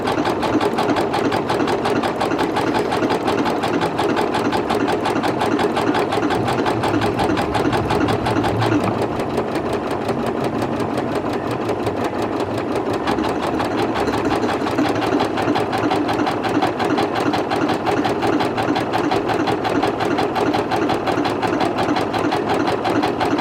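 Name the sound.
sewing machine stitching backwards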